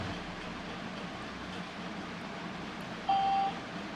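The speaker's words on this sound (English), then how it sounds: "So that beep means that it's connected." A short electronic confirmation beep from a Sony PS-LX310BT turntable pairing over Bluetooth, a single clean tone near the end over a quiet steady hiss.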